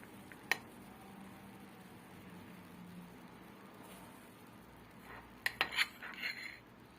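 A spoon clinks faintly against a bowl while cocoa is added to cake batter: one sharp tap early on, then a short cluster of bright metallic clinks near the end over a quiet room hum.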